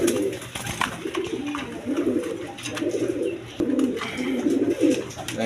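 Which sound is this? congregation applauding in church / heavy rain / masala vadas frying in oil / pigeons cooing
pigeons cooing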